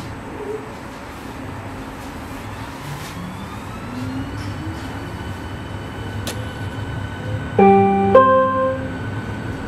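Berlin S-Bahn class 484 train running on the S47, a steady rumble of the moving train with rising and falling motor whine and a louder burst of tones near the end.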